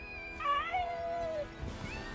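A cat meows in the video game Final Fantasy VII Rebirth, a couple of drawn-out rising and falling mews heard close and clear with no talking.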